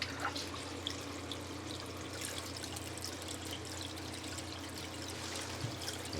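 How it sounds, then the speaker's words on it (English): A gold sluice set up outdoors for running paydirt, with steady water pouring and trickling through it in a continuous, moderately loud wash with no talking. "let's go fire up the sluice and find us some shiny"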